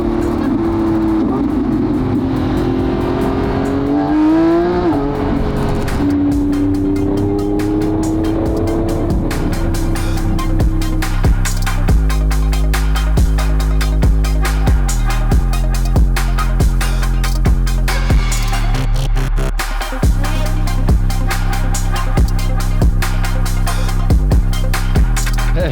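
A 1300 HP built-motor Nissan GT-R roars loudly as it accelerates hard, its engine pitch climbing and dropping through shifts and downshifts, with brief rising whines and a sustained heavy exhaust tone throughout, no voices over it.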